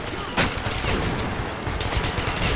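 Shotgun gunfire in the video game Metro Last Light, a sharp blast followed by dense noisy action and further bursts, loud and filling the mix.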